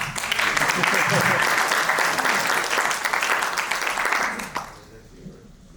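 Loud, dense applause from an audience at a design and sustainability masterclass in Ho Chi Minh City, sustained for several seconds with voices mixed in before it cuts off and fades away.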